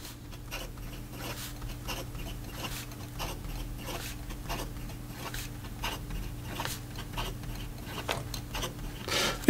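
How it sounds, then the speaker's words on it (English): A Namisu Orion pen, in stonewashed titanium or aluminum, scratches rapidly across paper in quick, irregular strokes, faint and close with no voices. "And then in regards to some fast writing,"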